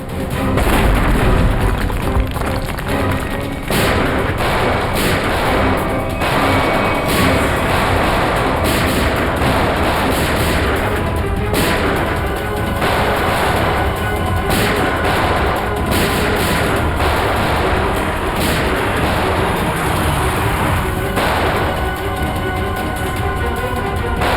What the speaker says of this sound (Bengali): ব্লাস্ট আরম্ভ হয়ে গেছে, এখন আমাদের পক্ষে বাঁচা অসম্ভব।